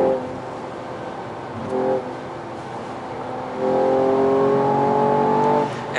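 A 2020 Mercedes E53 AMG 4Matic accelerates hard at high speed, its engine droning steadily inside the cabin and rising into a stronger, sustained roar toward the end.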